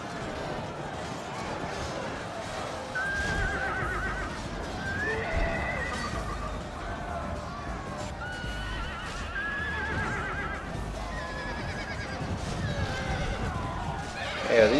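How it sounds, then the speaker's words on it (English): Cavalry horses neighing in a battle in the video game Medieval 2 Total War, repeated whinnies over a steady din of combat and hooves, moderately loud and continuing throughout, with voices in the mix. "these horses are dropping like flies."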